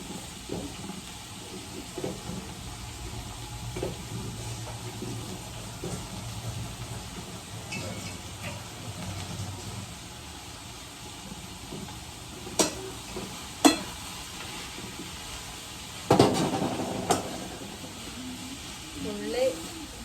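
Onions frying in a hot pan, a soft steady sizzle with occasional stirring clinks and scrapes, fairly quiet and close, with a voice talking at times.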